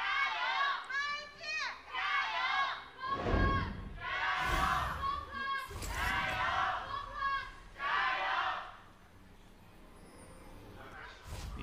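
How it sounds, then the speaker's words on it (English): Fans at a League of Legends LPL Spring Split esports match between Vici Gaming and FunPlus Phoenix cheer in loud, repeated chanting bursts, with a few heavy thumps, before quieting near the end. "The LWX fans still cheering along as ever"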